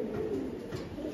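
Racing pigeons in a large loft collection give a soft, continuous cooing, close and moderately quiet, with no voices over it.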